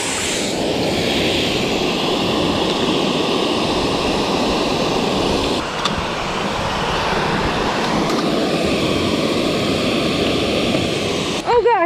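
Water pours steadily over a dam spillway, a loud, unbroken broadband rush that holds constant throughout, with a brief disturbance near the end.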